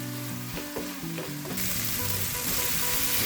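Mushroom sandwich filling frying in a pan, a steady close sizzle with light stirring scrapes, brightening and growing louder partway through.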